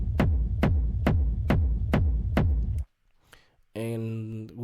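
A very big, boomy kick drum sample with no effects, played dry as six heavy, evenly spaced thumps. Its deep tails ring out before a pause and a short tonal phrase.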